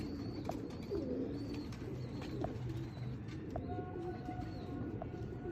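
Pure Sialkoti pigeons coo repeatedly close by, low throaty rolling calls in an irregular rhythm, with a few thin chirps above and a busy background of birds and rustling.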